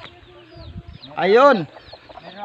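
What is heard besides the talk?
chickens clucking on a farm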